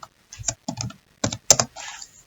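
Fingers type rapidly on a computer keyboard, several short bursts of close, crisp key clicks separated by brief pauses, with no voices.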